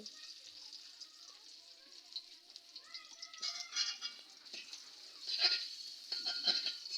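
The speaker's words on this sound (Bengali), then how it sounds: "এরপর কড়াইয়ে পেঁয়াজ কুচি দিয়ে দিচ্ছি" Chopped onion hits a hot wok (kadai) after eggs were fried in it, giving a bright continuous sizzle that grows louder and more crackly as it goes on, under a voice speaking.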